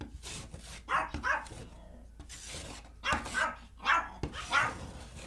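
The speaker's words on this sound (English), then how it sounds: "that is our dogs" The family's dogs bark in short rising bursts, a pair, then a quick cluster and a final yelp, at moderate distance indoors with a low steady room hum beneath.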